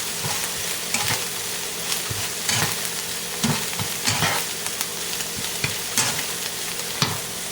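Hot sausage sizzles in a pan while a utensil stirs it around, a steady frying hiss broken by repeated scraping strokes at an uneven rhythm, close and fairly loud with no talking.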